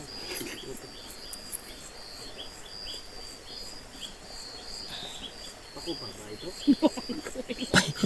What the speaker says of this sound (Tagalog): Huni ng kuliglig lang marinig dito.